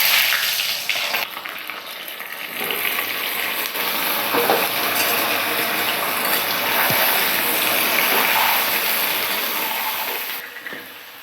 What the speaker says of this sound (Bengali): পটলগুলো তেলের মধ্যে দিয়ে ভালো করে ভেজে নেব লাল লাল করে।